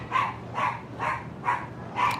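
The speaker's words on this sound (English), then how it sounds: "my dog is going crazy." Dog barking indoors: five evenly spaced, loud barks in a steady rhythm, close to the microphone with no talk over them.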